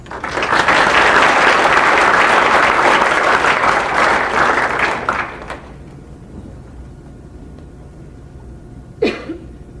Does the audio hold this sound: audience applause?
yes